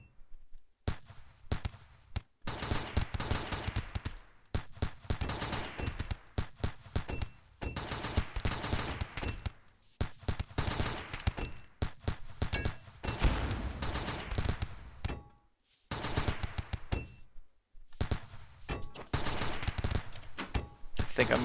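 Gunfire in the colony-building game RimWorld, rapid bursts and volleys separated by short quiet gaps, moderately loud, with a possible voice faintly in the mix.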